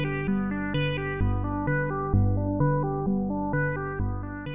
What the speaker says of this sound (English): The music you're hearing now was done entirely with the DreamStation synthesizer.